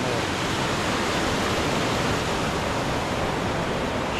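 Rushing water from a flowing stream, a dense, steady wash of noise close by and fairly loud, with no voices.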